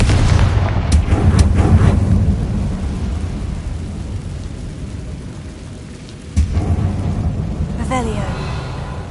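A Confringo fire spell explodes in Hogwarts Legacy, a loud rumbling blast with crackling debris that rolls on over a dense low roar, then a second sharp burst near the end, with voices speaking over it.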